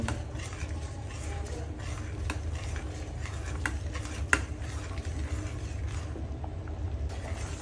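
A spoon stirs thickening Japanese curry sauce in a pot, giving soft continuous scraping and faint sizzling under a steady low hum, with a sharper tap against the pot near the middle.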